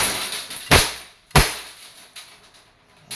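An Umarex Glock 17 Gen 3 airgun fires two sharp, close cracks about half a second apart, each followed by a brief metallic ring, with a fainter tap near the end.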